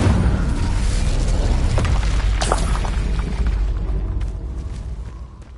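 Incendio fire spell blast from Hogwarts Legacy, a loud roaring whoosh and boom with crackling bursts that slowly dies away over several seconds.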